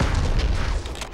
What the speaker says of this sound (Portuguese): Vou dar um tiro mais ou menos nesse ângulo aqui.